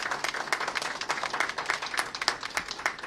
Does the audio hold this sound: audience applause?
yes